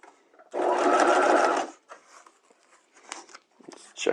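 A sewing machine runs steadily for about a second, stitching around a circular neckline facing, then stops, leaving faint handling clicks and rustles of fabric.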